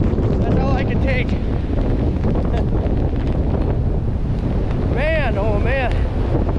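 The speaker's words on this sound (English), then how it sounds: "That wind is cold." Cold blizzard wind roars steadily across an open winter farmyard, buffeting the microphone throughout with loud, continuous rumble; a voice briefly calls out near the end.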